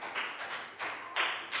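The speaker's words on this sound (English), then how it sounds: "High five, big round of applause for Pak Bung." Applause in a primary classroom for a pupil, heard as several short bursts of light clapping, fairly close and moderately loud, without talk over it.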